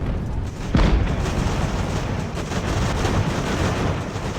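Cannon fire in the naval and land battle game Ultimate Admiral: Age of Sail, with one heavy boom standing out over a dense, constant roar of battle noise, loud and close.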